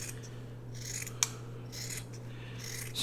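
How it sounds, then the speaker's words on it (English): Scissors snip through priority mailing box cardboard in one sharp, close cut, with soft rubbing before and after over a low steady hum. "I'm just going to fold it over like that and then cut it."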